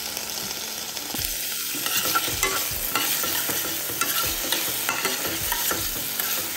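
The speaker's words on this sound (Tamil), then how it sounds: "இப்போ நல்லா வதக்கிக்கலாம்." Tomato, garlic and curry leaves are sautéed in a pan for a fish curry, with repeated spatula scrapes and knocks over a steady moderate sizzle and no voices.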